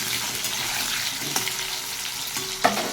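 Gathi and potatoes hit a pan of hot oil with cumin, giving a steady close sizzle with a couple of sharp clinks and stirring scrapes over the constant frying hiss.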